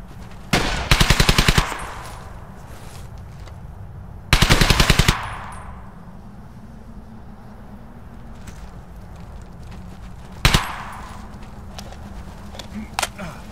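Machine gun fire from Brothers in Arms: Hell's Highway comes in sharp rapid bursts, two longer rattling volleys and then a brief shot, over a steady background of battlefield ambience.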